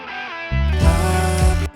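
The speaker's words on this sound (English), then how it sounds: "A lot of distortion and a flanger, and I messed with that riff a lot." Electric guitar riff played through heavy distortion and a flanger, a short sustained, buzzing chordal phrase that swells after a thinner opening and cuts off abruptly.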